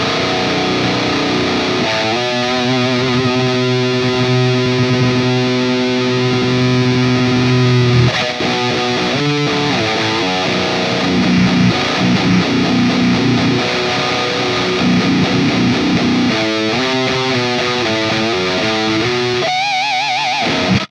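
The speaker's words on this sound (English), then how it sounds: "Let's crank the distortion and see how this sounds." Electric guitar played through a Boss Metalcore ML-2 pedal with the distortion cranked, loud and saturated: sustained heavy chords ring out, then broken single-note runs and choppy riffs, ending in a harsh burst.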